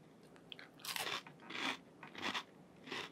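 Someone chews a crunchy snack up close, with four loud crisp crunching bites in an uneven rhythm, separated by short quieter pauses.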